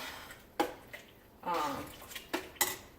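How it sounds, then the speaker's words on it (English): A spoon stirs homemade meat sauce seasoned with thyme, rosemary, savory, basil and sage in a pot, giving a few close, sharp clinks and one longer scrape against the metal over a quiet kitchen background. "I'm going to stir this up."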